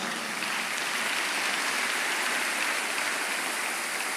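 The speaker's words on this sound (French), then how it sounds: "acclamons les avocats" Church congregation applauds lawyers, a steady dense wash of clapping that holds evenly throughout with no voices on top.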